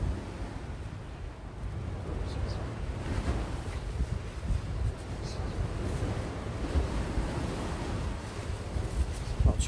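Wind gusts roar across a microphone at a cold, wet fishing spot, a constant low buffeting rumble with surf-like washes rising and falling throughout, no clear talk over it.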